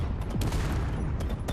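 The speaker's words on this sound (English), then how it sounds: "Everywhere we have explosions." A dense, rapid crackle of explosions rips through a damaged ship in Space Engineers, continuous and loud, its bridge destroyed, with the blasts overlapping one another.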